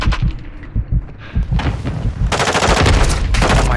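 Loud, close automatic gunfire from the video game Call of Duty: Modern Warfare II: rapid bursts of shots that build into a dense, sustained rattle and drown out everything else.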